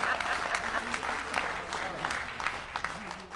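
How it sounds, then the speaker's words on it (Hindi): Applause from the audience at a Hindi kavi sammelan poetry recital, a moderately faint, rippling spread of clapping that stays fairly even, with some voices mixed in underneath. "और अब आपकी तालियां उठेंगी।"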